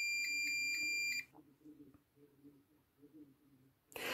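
A multimeter's continuity beep while a throttle position sensor is tested on a Mercedes with KE-Jetronic injection: a steady, loud electronic tone lasts about a second, quiet murmuring follows, then the beep starts again at the end.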